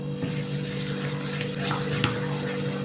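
A small amount of water poured into semolina mixed with yogurt, a steady close trickling, splashing stream with a faint low hum behind it.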